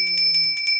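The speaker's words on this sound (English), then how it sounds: "He also brought me this bell." An Asian bell is struck repeatedly, giving bright sustained metallic ringing with about five strikes in quick succession. The tones ring on steadily, close and clear.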